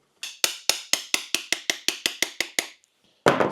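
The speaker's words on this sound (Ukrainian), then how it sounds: "коли вдіваєш пружину, то його зажимає і потрібно підбивати трошки молоточком" A small hammer taps a shaft into place while assembling the hopper housing of a Monosem mineral fertilizer unit: about thirteen crisp metallic strikes in an even rhythm, close and sharp, followed by a brief pause and a louder clatter.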